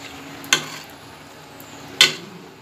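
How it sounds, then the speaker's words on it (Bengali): Browned tempering for a masoor (red lentil) dal is tipped into the pot off the heat and mixed in, heard as two short sharp sizzling bursts about a second and a half apart over a faint quiet background, with no speech. "এরপর চুলাটা বন্ধ করে ফুরানোর জন্য ডালের মধ্যে ঢেলে দিব।"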